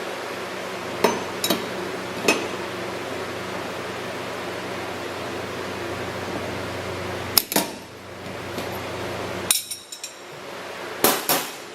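Two 1-1/16-inch wrenches work against each other to break loose a pressure transmitter fitting. Scattered sharp metallic clinks and knocks sound close over a steady background hiss, some single and some in quick pairs.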